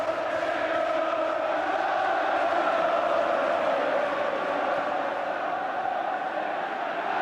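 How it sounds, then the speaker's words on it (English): Old Trafford football crowd during an Everton match, a steady dense roar of massed voices with chanting swelling throughout, loud and continuous with no break. "And listen now to the Old Trafford crowd."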